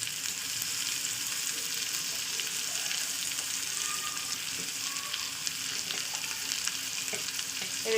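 Spices with ginger, garlic and tomatoes fry for khichuri over a lowered gas flame, giving a dense, constant hiss and sizzle close by, with faint occasional stirring, no talk.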